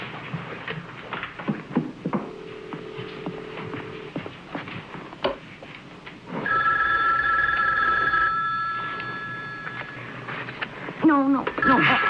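A telephone bell rings in a room, a sustained electronic trill that runs for a couple of seconds and trails off, with people talking before and around it.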